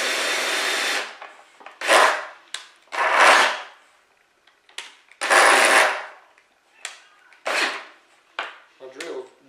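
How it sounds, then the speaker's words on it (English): Several separate bursts of a drill cutting a hole in a plastic bucket, each lasting about a second, with short pauses and faint clicks between them. "My drill bit's trying to come out."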